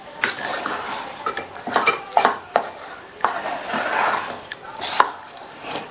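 Ragi flour dough being mixed with jaggery syrup in a pan, giving irregular scraping and clinking of a utensil against metal in uneven bursts, close and fairly loud, with no talking.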